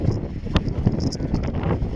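Steady low rumbling wind buffets the microphone, with faint knocks and rustles underneath, continuous and fairly loud.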